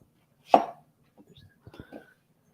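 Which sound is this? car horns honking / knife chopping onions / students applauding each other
knife chopping onions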